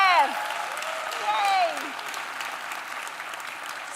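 An audience at a podcast awards ceremony applauds, with scattered clapping under a few high cheers and whoops early on before the noise settles into a softer, steady patter.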